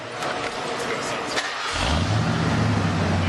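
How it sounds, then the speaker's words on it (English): A Ford engine starts and then revs up in the second half of the clip, a close, loud low rumble rising beneath a faint voice. "If you close your eyes, it sounds like a Mustang."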